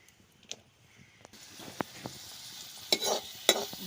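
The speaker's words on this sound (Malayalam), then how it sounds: "ചെറിയുള്ളി കുഞ്ഞേതായി അരിഞ്ഞതാണ്. അത് നമുക്ക് വറുത്തിടാം." Finely chopped small shallots fry in hot oil for a quick fish curry, a quiet crackling sizzle that swells after a moment, broken by a few sharp spatula scrapes and clinks against the pan.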